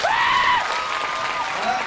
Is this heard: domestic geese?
no